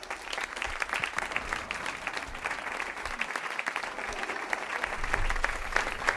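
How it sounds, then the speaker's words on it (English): A room full of people gives a round of applause for a comedy bit, dense steady clapping at moderate distance, fairly quiet and continuous throughout. "we'll give you a fucking round of applause."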